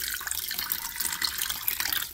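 Filtered water pours from a container into a pot, a short, soft, continuous splash and trickle with no voices.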